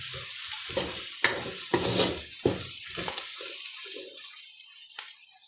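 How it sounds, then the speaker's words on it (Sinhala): Chicken and garlic stir-fry in hot oil, with a spatula scraping and stirring in short bursts over a soft, steady sizzle, close and moderately quiet. "දැන් අපි සුදු ලූණු ටික එකතු කරගෙන ඒ ටිකත් තෙලේ රත් වෙන්න දීලා චිකන් එක හොඳට කලවම් කරගමු"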